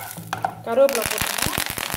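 Curry leaves dropped into hot oil over a brinjal tamarind kootu, giving a burst of loud crackling pops and sizzle that settles into repeated sharp spluttering bursts close by.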